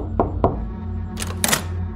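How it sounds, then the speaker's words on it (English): Two soft knocks land on a door with a short pause between them, followed by a couple of sharper clicks or taps over a low background hum. "As I approached the door, I knocked softly."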